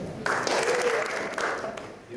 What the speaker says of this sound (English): She gets a round of applause too